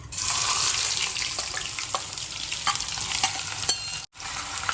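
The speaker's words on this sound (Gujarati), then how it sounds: "લવિંગ એડ કર્યું અને આ જીરું અને હવે ડુંગળી" Chopped onion hits hot oil with cloves and cumin for a Gujarati dry tomato curry, giving a loud, steady close sizzle with a few light stirring clicks and a brief break near the end.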